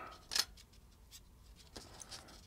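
Strip of cut paper for a scratch-built Seaspan Corsair tug diorama being folded accordion-style, giving a sharp crisp crease near the start followed by softer faint rustles, close and quiet with no talking.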